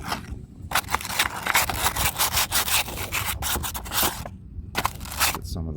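Rusted metal on a 1987 Trans Am being rubbed down with sandpaper during an LS swap, a steady run of loud rasping scrapes in quick back-and-forth strokes with short pauses between bursts.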